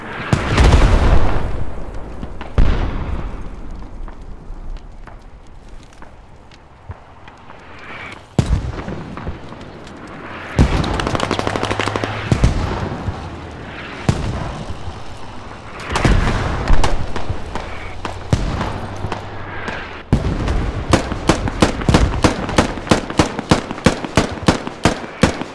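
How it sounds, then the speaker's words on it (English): Mortar shells exploding in the military shooter game Squad, a series of heavy booming impacts spread out over time, some close and loud, followed near the end by a fast run of rapid gunfire bursts. "Good effect on mortars."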